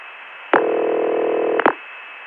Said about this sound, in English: causes the dial tone to just come back